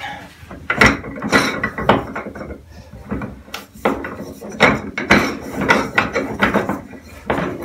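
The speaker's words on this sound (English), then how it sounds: "you cut the rivet off wherever that the washer sits, and then boom. So show you it in action." Metal cutting tool for rivets working in repeated bursts: loud, close clanks and crunching snips with scraping between them, a rough rhythmic run of impacts with no voices.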